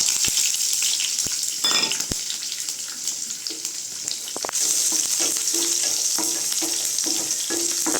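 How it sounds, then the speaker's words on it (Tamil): Cinnamon, curry leaves and onions crackling in hot oil for a pepper chicken curry, a loud close hiss with sharp pops early on, then stronger steady frying with rhythmic stirring scrapes. "அடுத்து கருவேப்பிலை சேர்த்துக்கோங்க அடுத்து வெங்காயம் போட்டுக்கோங்க"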